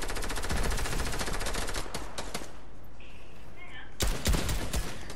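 Rapid bursts of gunfire in a battle royale shooter, dense repeated shots in a fast rhythm, then a pause and a second loud cluster, with voices talking over the action.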